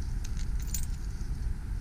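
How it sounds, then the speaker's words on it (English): Keys for a 2001 Jeep Grand Cherokee Laredo jangling and clinking close up, a continuous bright metallic rattle over a low background rumble. "two keys for the vehicle."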